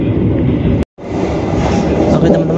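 Inside the Serayu passenger train as it runs along the rails, a loud, steady rolling rumble of wheels and carriage, cut by a sudden brief dropout before resuming.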